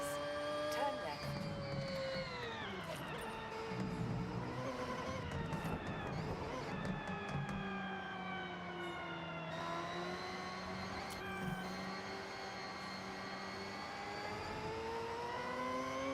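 Naturally aspirated rotary engine car in Forza Horizon, played on a wheel, revs steadily with a buzzy, rising and falling whine through gear changes, loud and continuous, with talk over it.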